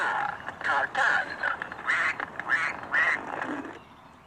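A duck quacks in a rapid series of about seven nasal, close, fairly loud calls with brief gaps, fading out at the end.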